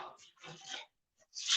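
A small dog whimpers and breathes in short, soft bursts close by after being tripped over, with quiet gaps between the sounds.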